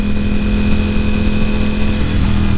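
A 2018 Ducati Panigale V4 racing motorcycle engine runs loud and close with a steady, throbbing mechanical roar and a constant whine, holding at an even pitch throughout.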